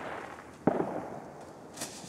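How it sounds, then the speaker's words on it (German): A Keller firecracker (Böller) explodes with a single sharp, fairly close crack and a brief rumbling tail, then a fainter pop follows a second later; no talking. "Hoffentlich gehen die Böller gleich besser."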